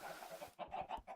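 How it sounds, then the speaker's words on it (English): Chickens on an automatic chicken farm in the Minecraft video game cluck in a short burst of four or five quick, faint clucks following a soft hiss. "But this is an automatic chicken farm."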